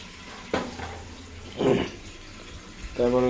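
Running tap water splashes over eggs being washed by hand, with a few short bursts of flowing and rinsing sounds, close and moderately loud, and brief voiced sounds near the end.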